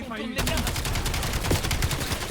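Rapid automatic gunfire from a weapon during a shooting-range mission in Black Ops 7 on PC, a dense, loud burst of evenly spaced shots running for about two seconds.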